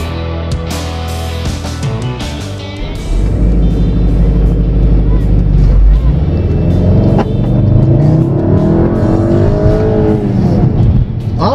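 Volkswagen engine from a 2015 Golf TDI or Beetle Turbo revving up to around 3,500 RPM, a loud rising drone that climbs and holds, with someone talking over it.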